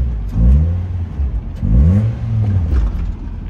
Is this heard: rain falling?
no